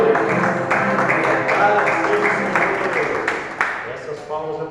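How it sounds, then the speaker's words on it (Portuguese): Church congregation clapping after a hymn, steady applause blended with a voice speaking over it, fading slightly toward the end. "Essas palmas é para ele, amém?"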